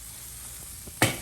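Onions hit a hot grill beside Wagyu beef burgers, giving a sudden close sizzle after a quiet stretch of faint background hiss.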